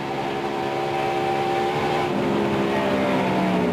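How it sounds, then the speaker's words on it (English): NASCAR race car at the 1996 MBNA 500, heard from on board as the engine drops off throttle, a loud continuous engine drone with steady harmonic tones shifting lower, no talk. "We can hear him getting right out of the throttle."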